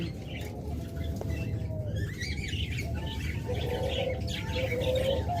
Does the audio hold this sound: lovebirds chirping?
yes